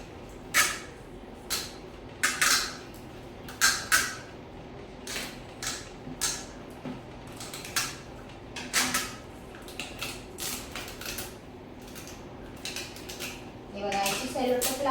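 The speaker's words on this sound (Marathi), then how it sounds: "हे बघा, अशा प्रकारे सगळ्या गॅप्सला सेलोटेप लावून घ्यायचं." Cellotape being stuck over the gaps of a mixer grinder: a steady string of close crackles, snaps and small knocks from handling the tape and the plastic body, with brief rustling near the end.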